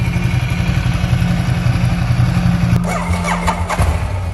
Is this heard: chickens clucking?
no